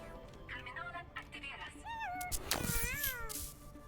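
Jetpack Cat, a hero in the Overwatch video game, gives several short rising and falling meows near the middle, set among busy game sounds and a speaking voice.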